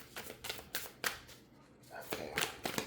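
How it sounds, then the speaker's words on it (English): A tarot card deck being shuffled, a series of quick soft riffling bursts in an uneven rhythm with a short pause midway, close and fairly quiet. "shuffling there is a little hard"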